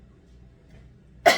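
A woman with a cold gives a single sudden cough after a moment of quiet room tone.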